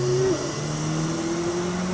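Unregistered JDM car, both supercharged and turbocharged, accelerates through an empty Sydney Dragway car park, its engine note climbing then settling into a steady, close hum.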